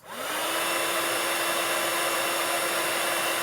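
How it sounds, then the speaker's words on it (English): A steady, loud blowing whoosh of a heat gun that starts abruptly and holds a constant airy roar with a faint steady hum. "I've got a heat gun here and I'm literally just going to apply heat."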